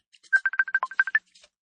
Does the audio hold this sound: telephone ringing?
yes